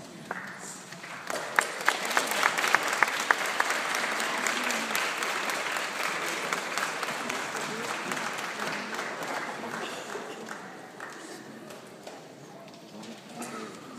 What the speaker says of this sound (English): we're going to give an applause to all of our family and friends